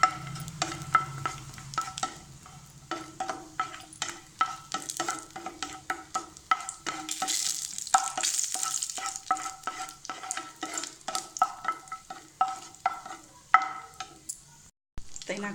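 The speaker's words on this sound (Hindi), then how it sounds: "गर्मे बर्तन में काजू के भूज लेबाक छै।" Cashews roasting in a hot pan for caramel kheer, stirred steadily with a spatula, giving a continuous dry scraping and light sizzling with frequent small clinks and rattles of the nuts against the metal, close up and without talk.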